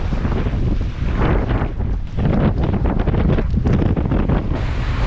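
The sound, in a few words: wind blowing on the Hiiumaa coast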